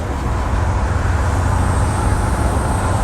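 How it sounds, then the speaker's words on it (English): A 1989 Crown SuperCoach II school bus cruising, its turbocharger whistling over a heavy, steady engine drone and road rumble from inside the cabin, loud and continuous for a few seconds. "Hear that turbo whistle?"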